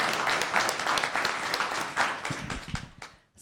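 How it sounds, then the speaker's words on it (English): A town council meeting audience breaks into applause, a dense burst of clapping that carries on steadily, then thins out and fades at the end. "Let's have a round of applause."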